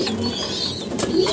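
Pigeons coo low and throaty close by in a loft or cage, soft repeated warbling calls over a steady hiss of background noise.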